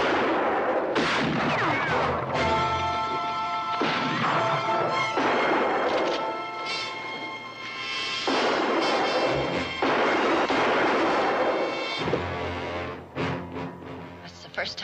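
Gunshots in a western drama scene, loud booming reports and crashes repeating irregularly over a dense, noisy soundtrack with voices mixed in.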